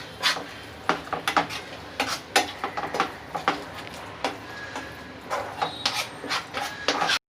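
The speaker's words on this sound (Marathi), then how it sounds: "आता आपण त्या सर्व मसाल्यांना चांगलं व्यवस्थित मिक्स करून घेऊया" Spices are stirred with yogurt in a pan for a prawn biryani gravy, with repeated irregular scrapes and knocks of a utensil against the pan, close and fairly loud.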